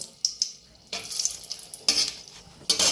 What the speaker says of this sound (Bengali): 2টো লঙ্কা তেলে দিয়ে নেবো